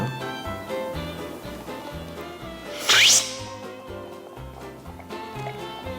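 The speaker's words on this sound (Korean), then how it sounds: "커피 맛을 보는 단계를 슬러핑이라고 얘기를 합니다" A single sharp, loud slurp of coffee during a cupping tasting, a brief noisy hiss of suction, rising over steady background music.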